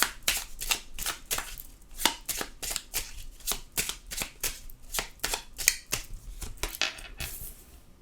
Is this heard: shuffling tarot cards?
yes